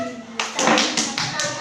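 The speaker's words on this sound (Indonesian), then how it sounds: "tepuk tangan untuk kelompok 3" Classroom applause for a student discussion group, a burst of quick claps from several pupils starting after a brief pause and continuing in uneven rhythmic waves, close and moderately loud.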